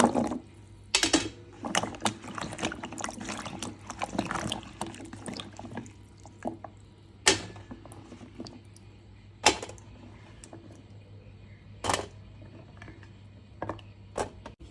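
Fig fruits being washed in water, with sloshing and gentle splashing, light rattles as the fruits are handled, and a few sharper knocks against the container, close up and without talk.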